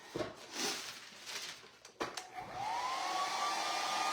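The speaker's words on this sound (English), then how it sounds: "I'm gonna dry this just a little bit with my hairdryer." A few soft shuffling noises and a sharp click, then a hair dryer starts up and blows steadily with a rising whine until the end.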